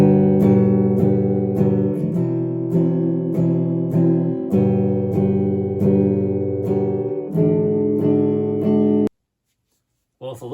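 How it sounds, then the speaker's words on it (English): Guitar strumming basic major chords in a steady rhythm, about a dozen close, ringing strums that stop abruptly, followed by a brief silence and a short sound at the end. "Do your major chords always sound like this guy?"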